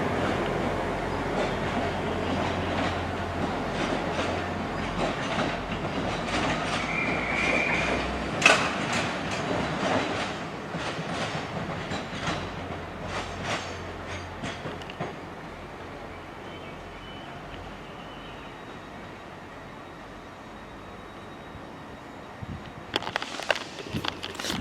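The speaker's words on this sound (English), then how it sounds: "This train will terminate here." A train at Telford railway station, its low rumble and rail noise running steadily under the station ambience, with footsteps and brief clatters on the platform and a few sharper knocks near the end.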